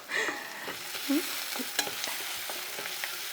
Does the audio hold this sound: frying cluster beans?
yes